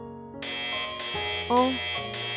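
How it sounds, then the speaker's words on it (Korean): A synthetic spaceship alarm from a children's space story blares in steady electronic buzzer tones, holding a bright harmonic drone with a short rising squeal partway through. "그때 우주선에서 경보음이 들려왔어요"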